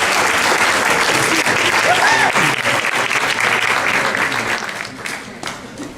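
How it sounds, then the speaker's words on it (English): A forum audience at a voting rights event greets Michael Eric Dyson with loud, sustained applause from a large crowd, thick and even at first, then thinning and fading over the final seconds. "Let's give him a round of applause."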